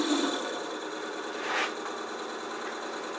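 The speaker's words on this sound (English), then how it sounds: "I'm simply going to drill and let the drill catch this as I come through" A drill boring through a small turned wooden Christmas ornament on a lathe, a steady close rasping grind with a brief louder bite midway as the bit catches.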